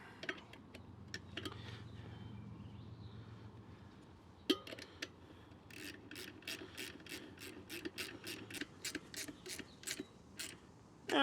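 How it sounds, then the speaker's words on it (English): Working the valve stem nut on an enduro motorcycle rim during a manual tire change gives quiet clicks at first, then a fast run of regular ratchet-like ticks, close and faint with no talking. "now would be a good time to tighten this nut up"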